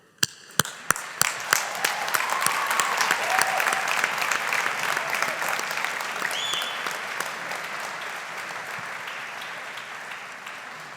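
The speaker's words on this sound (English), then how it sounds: "let's take a moment to acknowledge and applaud your supporters for all they've done for you" A large audience at a university graduation ceremony for the Faculty of Science & Engineering breaks into sustained applause for the graduates' supporters, opening with a few sharp separate claps before swelling into a dense, steady roar that slowly eases.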